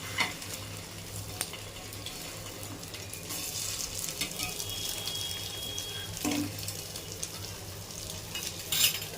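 Fried eggs flipped and sautéed in hot oil in a pan, a soft continuous sizzle with occasional scrapes and clinks of a utensil, fairly quiet and close, with no talking.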